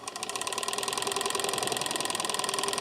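Car heater blower motor running on its first speed, a steady close whirring hum with a fast regular pulsing flutter throughout.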